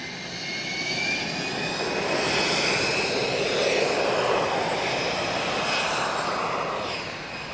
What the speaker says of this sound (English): Right guys, the C-130J's moving.